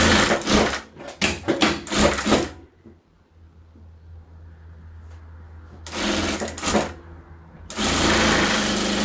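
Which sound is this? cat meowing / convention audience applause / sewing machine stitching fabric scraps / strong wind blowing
sewing machine stitching fabric scraps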